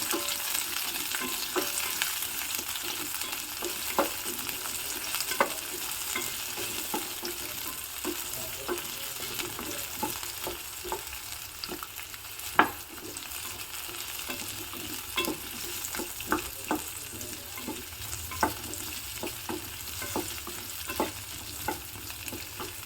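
Coarsely cut pieces of a medium-size onion fry steadily in a pan for a curry, with a constant sizzle and repeated scraping stir strokes, close and alone.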